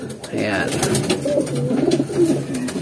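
A pet pigeon coos softly in low, throaty warbling phrases close by, while a person speaks briefly over it.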